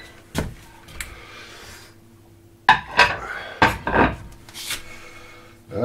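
Dishes and cutlery clatter close by as a dishwasher is loaded, in irregular bursts of clinks and knocks split by brief pauses.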